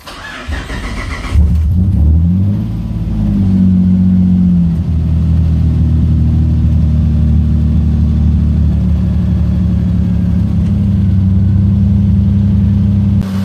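A Mitsubishi 3G Eclipse with a 6G75 engine cranks briefly and fires up, then settles into a steady, loud, close idle with a deep even drone that holds for the rest of the time.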